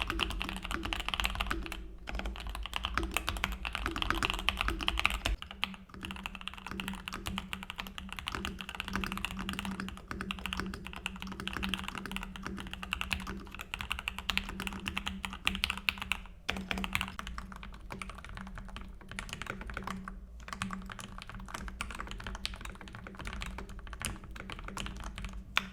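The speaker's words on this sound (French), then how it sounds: "D'un côté, on peut littéralement entendre le frottement du switch, et de l'autre, bah bizarrement, plus rien du tout" Typing clatters steadily on a mechanical keyboard, with stock switches compared against Keychron K Pro Red switches: fast, dense key presses and soft thocks, close up and moderately quiet, with no voice.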